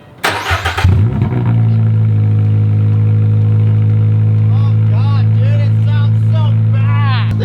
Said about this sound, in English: curious to hear what it sounds like with no exhaust on it